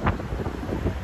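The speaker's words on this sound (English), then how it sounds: "It is so windy." Strong wind buffets the microphone outdoors on a summer day in the city, a brief, close, blustery rumble with no talking.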